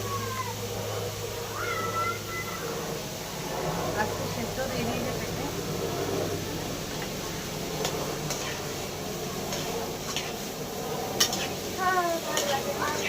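Papaya and potato pieces fry together in a pan, a low sizzle with stirring scrapes, while a cat meows repeatedly nearby and people talk over it.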